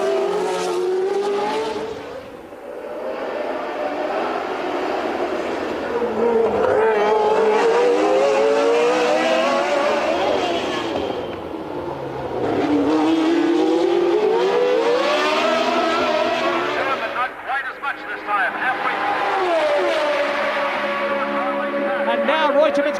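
Formula One race cars at the 1981 US Grand Prix West on a street circuit, engines screaming and rising in pitch through gear changes, loud and continuous with cars passing, under a commentator's running talk.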